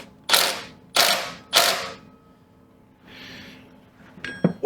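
A ratchet wrench with a 14 mm socket cinches down a bolt on a 1971 Honda CB350 motorcycle, heard as three loud, evenly spaced rasping ratchet bursts, then softer clicks and a short metallic clatter near the end.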